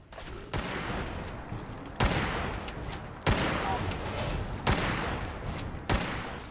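Sustained gunfire from Fallout 4's Far Harbor expansion, a dense continuous fusillade broken by sharp louder shots about every one to one and a half seconds, loud and close, with no talking.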